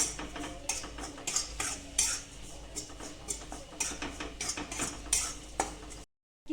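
A spoon scrapes and clatters steadily in a pan as peanut chutney with red chili, salt and plenty of garlic is stirred and sautéed, the quiet, close scraping repeating in quick strokes until it cuts to silence near the end.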